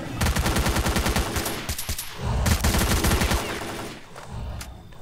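Automatic gunfire in S.T.A.L.K.E.R. Call of Pripyat, loud close bursts of rapid shots in several volleys with brief pauses between them.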